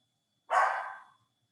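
A dog gives one sharp bark that trails off quickly, heard alone against silence at moderate distance.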